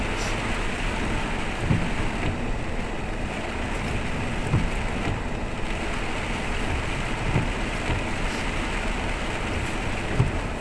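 Heavy, steady rain has kept pouring since early morning, a dense, constant hiss and patter filling the air with no pauses and no voices.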